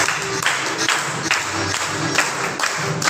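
Audience clapping at a small business meet program, a loud, steady patter of many hands with a few sharper individual claps.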